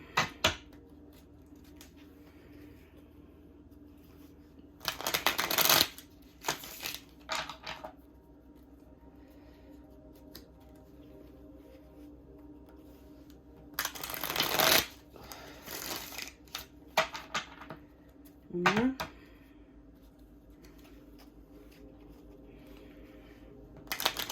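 A deck of cards is shuffled in a quiet room, heard as several brief, riffling bursts of rustle and snap spread across the stretch with silent gaps between them.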